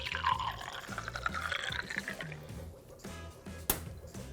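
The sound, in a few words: water being poured into a jar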